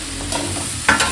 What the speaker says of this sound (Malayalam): നല്ലതായിട്ട് മിക്സ് ചെയ്ത് ഇളക്കുന്നു